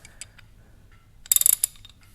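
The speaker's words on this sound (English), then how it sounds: "let's see if I can get this socket wrench in here" A socket wrench ratchets on the differential plug of an Austin Healey 3000, a quick close run of sharp metallic clicks after a few scattered taps, with no voice.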